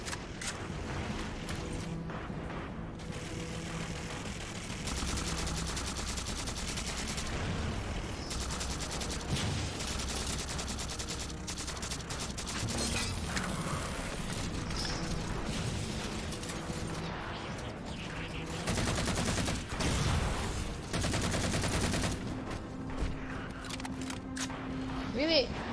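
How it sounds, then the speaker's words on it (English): Fuel rod cannon fire in Halo 4 multiplayer, a dense run of explosive energy blasts and gunfire with rumbling impacts that continues for nearly half a minute under steady game noise and talking. "I'm trying to take it out with this fuel rod cannon"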